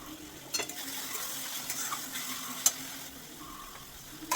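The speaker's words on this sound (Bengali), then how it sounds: "আমি একটু ভালো করে মশলাটাকে একটু কষিয়ে নিলাম" Spice paste with tomato frying in a pan for spicy chicken stomach kosha, a steady close sizzle with occasional stirring scrapes and a sharp clink of a utensil against the pan.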